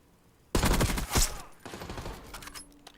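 Close, loud bursts of automatic gunfire in the shooter Black Ops 6 during a ranked Hardpoint match, with a sharp opening volley, a second peak, then lighter continued shots trailing off.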